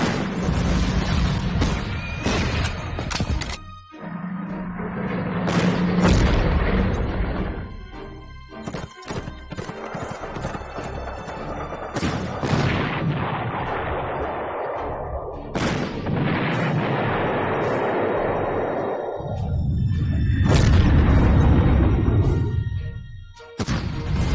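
Heavy artillery booms and crashes in the Panzer Corps strategy game, loud repeated blasts with long rumbling tails, spaced irregularly and building to a deep heavy rumble near the end.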